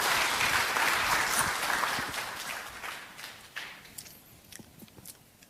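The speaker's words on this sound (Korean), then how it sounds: "다시 한번 큰 박수 부탁드리겠습니다" A conference audience applauds after a talk, a dense wash of clapping that starts full and loud and then thins into scattered, fading claps, with no voices.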